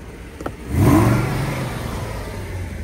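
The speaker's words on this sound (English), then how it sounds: "I'm putting my foot to the floor right now, how it doesn't rev up" Car engine revving with a sloppy gas pedal and clutch, the pedal floored yet the revs rising only sluggishly into a steady, muffled drone heard from inside the cabin.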